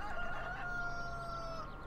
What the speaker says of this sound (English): As the rooster crows.